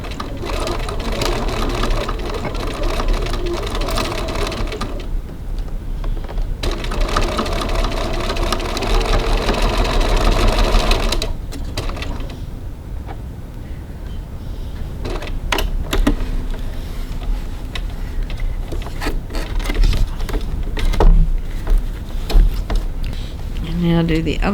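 Home sewing machine stitching the boxed bottom corners of a fabric cross-body bag at a short stitch length, a steady whirring run that stops and restarts in bursts, with a person talking between them.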